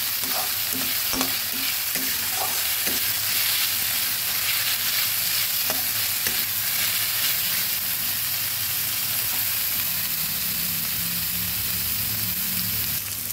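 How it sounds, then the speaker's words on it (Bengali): Onion paste and ginger paste fry in a pan for a fish curry, a continuous close sizzle broken by a few scraping stirs of a spatula, with no voices. "পেঁয়াজ আর আদাটা ভালোভাবে ভেজে নেব।"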